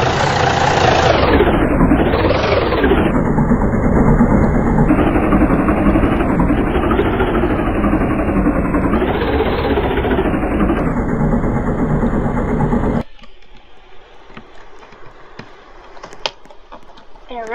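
Army vehicle engines run in a Roblox game, a loud continuous rumbling drone whose pitch rises and falls over about thirteen seconds and then cuts off abruptly, leaving faint clicks.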